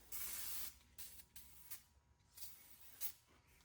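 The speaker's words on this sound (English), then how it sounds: "Just gonna spray it a little bit." A short burst of brake parts cleaner aerosol hisses close up, followed by several brief spritzes and faint handling noises, during front-end auto repair.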